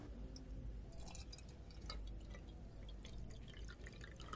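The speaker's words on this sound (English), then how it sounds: "Fill the overflow vessel with water." Water from a jug poured into an overflow vessel during a school science experiment, heard up close as a steady trickle with small drips and splashes and no talking.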